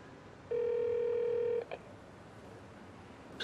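A telephone call goes unanswered: one steady electronic tone lasts about a second, followed by a brief blip and then quiet line hiss.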